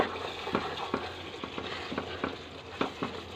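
Spices tempering in hot oil for a dhaba-style egg tarka, a steady close sizzle with the soft scrape of stirring at intervals, and no voices.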